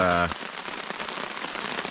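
Steady rain patters across a surface in a dense, continuous hiss with scattered drops, after a brief tonal voice-like sound at the very start.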